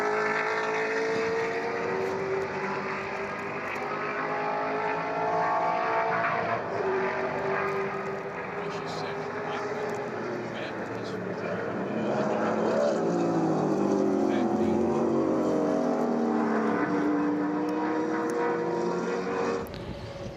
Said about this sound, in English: here's Lewis again making his way around